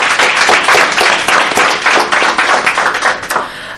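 A crowd at a Comrades Marathon send-off event applauds the behind-the-scenes broadcast team, dense, loud clapping that stays strong for a few seconds before tapering slightly.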